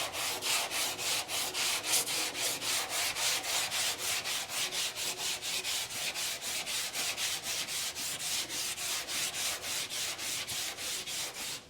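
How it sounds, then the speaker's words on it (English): Bondo body filler being sanded with 80-grit paper on a longboard, a steady rhythmic scraping of rapid back-and-forth strokes, close and loud, continuing without pause. "Next, I'll take 80 grit on the longboard and get it all blocked down."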